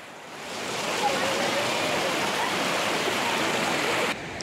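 Mountain river at Sittong in the Darjeeling hills, a steady broadband rush of flowing water that holds constant and fairly loud throughout, then drops off abruptly just before the end, with no voices.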